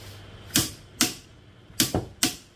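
A torque wrench set to 700 Nm gives several sharp, loud clicks, spaced unevenly with two falling close together, against a quiet background.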